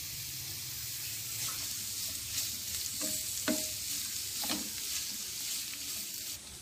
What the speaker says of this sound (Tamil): ஃபஸ்ட்டு நம்ம பேன் வச்சு முள்ளங்கியை வதக்கிக்கலாம்